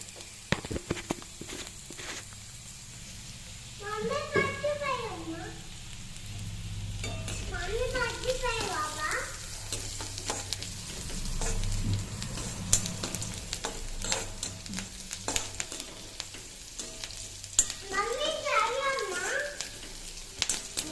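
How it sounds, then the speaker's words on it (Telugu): Onions fry and sizzle in a pan with turmeric, a soft steady crackle under stirring, while people talk nearby and children's voices come and go. "ఆనియన్స్ వేగుతున్నాయి కదా"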